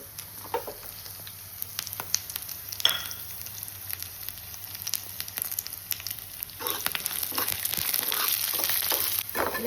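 Black pepper and chana dal fry in a pan with a steady sizzle and crackle, close and moderately loud, with occasional stirring clicks and a rising hiss toward the end; no talking.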